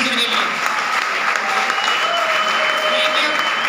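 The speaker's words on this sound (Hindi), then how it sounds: "एक बार गुरु जी के लिए जोरदार ताली होनी चाहिए जसवीर सर के लिए" Audience applauding a speaker at a seminar, loud continuous clapping filling the whole moment, with voices mixed in underneath.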